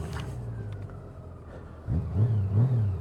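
A 2019 Honda Goldwing motorcycle cruising with a steady low engine drone, swelling into a louder, rising throttle note near the end and heard close and continuous, with no voices.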